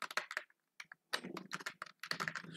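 Rapid, close keystrokes clatter in short bursts on a computer keyboard as a command is typed, with brief pauses between runs of keys.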